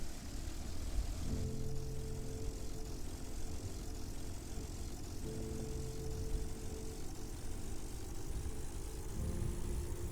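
Aircraft engines in Kerbal Space Program run at steady volume through a takeoff roll down a bumpy, un-upgraded runway on low-tech wheels. The constant propeller drone stays loud throughout and shifts in pitch a few times.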